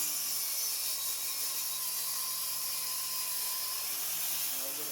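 A mitre saw cuts through a 9¼-inch 2x10 board, its steady high whine running loud and unbroken for the whole stretch with no talking.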